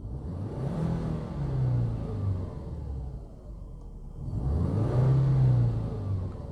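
A 280-horsepower turbocharged Subaru Legacy B4 engine hums and rumbles up close, swelling as it revs twice with a brief easing between, smooth and fairly subdued.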